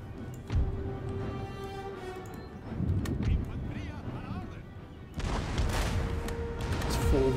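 Battle din from Empire: Total War, with dense musket volleys and booming artillery layered under continuous talk, then a louder burst of massed firing late on.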